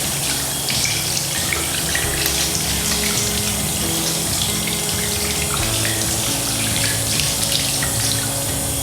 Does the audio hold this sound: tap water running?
yes